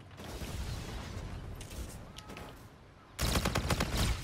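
Gunfire in the shooter game Call of Duty: Infinite Warfare, with muffled shots and a low rumble at first, then a sudden loud burst of rapid automatic fire near the end.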